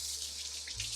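Cold tap water pours steadily into a kitchen bowl, a close, continuous rushing splash that deepens slightly as the bowl fills, with no voices.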